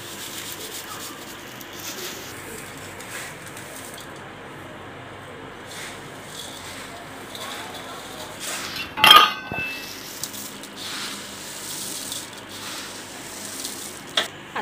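Hands rub and toss chivda masala with mustard seeds in a bowl, making a soft, continuous rustle and scrape. A louder clink of the bowl stands out midway, with faint handling noises around it and no talk.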